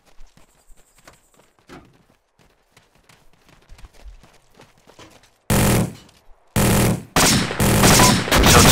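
After quiet scattered clicks, a minigun in the video game Arma 2 unleashes loud sustained bursts of rapid fire, close and dominant, with a short pause between bursts.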